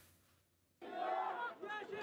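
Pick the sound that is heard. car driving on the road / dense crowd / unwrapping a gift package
dense crowd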